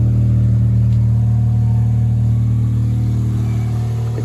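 A Geo Metro fitted with an Evil Energy exhaust drones at a steady, low, loud pitch close by, holding an even tone throughout with no one talking.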